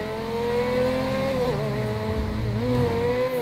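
Ferrari engine driving in the GTA 5 video game, a steady, loud engine drone with gear-like pitch shifts and revving, continuous throughout with no talk over it.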